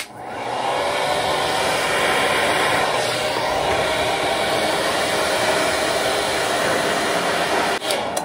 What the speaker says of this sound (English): Take the blow dryer.